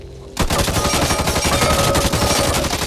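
M4 Carbine assault rifle from the shooter Back 4 Blood opens up after a brief quiet start, firing a loud, sustained rapid automatic burst that runs steadily to the end.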